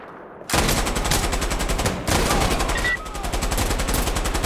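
Sustained automatic gunfire in the combat shooter Insurgency: Sandstorm, a loud rapid rhythmic stream of shots that breaks briefly and resumes, with a faint voice beneath.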